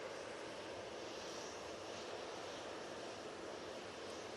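An airplane rolling down the runway at Manchester Airport, a steady faint broadband roar of engine noise that stays even throughout and heard from a distance.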